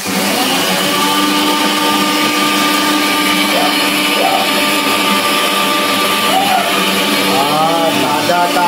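Mixer grinder blending onions for a fish curry, a loud constant motor whine running unbroken from start to finish, with faint voices underneath.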